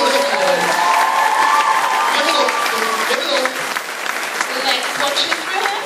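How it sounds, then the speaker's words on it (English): Audience at a school staff talent show applauding, with cheers and whoops rising through the clapping; the crowd noise is loud and sustained, fading slightly toward the end. "So give them a massive round of applause."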